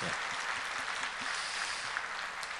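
A church congregation claps steadily during a Sunday worship service in a continuous wash of applause that lasts the whole moment.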